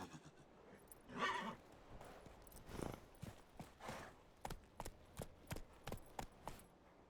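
A horse in The Witcher 3 whinnies loudly near the start. A run of steady, evenly spaced hoofbeats follows and grows more regular and distinct toward the end, with no voices.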